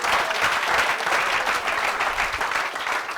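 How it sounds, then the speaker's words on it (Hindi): An audience gives loud, sustained applause, a thick continuous roar of many hands clapping close by, steady throughout with no speech over it. "चलो बजाओ सर के लिए जोरदार ताली।"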